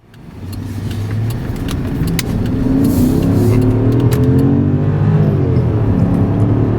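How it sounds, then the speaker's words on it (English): A 2008 Jaguar XJ Vanden Plas with a 4.2-liter engine accelerates hard, its exhaust swelling into a loud, smooth, rising drone heard from inside the car, steady and sustained. "Nice sound out the pipes, I have to say. Sounds very sporty when you get on it."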